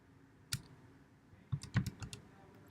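Numbers are tapped out on a calculator: a lone click, then a quick cluster of five or six soft key presses, faint and close in a quiet room.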